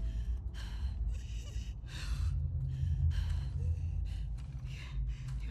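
Labored, gasping breaths in The Last of Us Part II, a run of ragged inhale bursts at a steady uneven rhythm over a low rumbling game ambience, close and fairly quiet.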